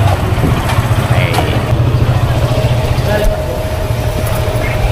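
Street traffic in Tanza proper at school dismissal time: a steady low rumble of cars, motorcycles and idling engines, moderately loud and continuous, with voices in the background.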